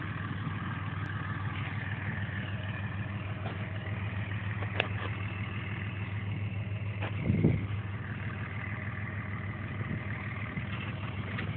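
A Cummins diesel truck engine at a truck pull, heard at a distance as a steady, low rumbling drone with wind noise and a brief louder burst partway through.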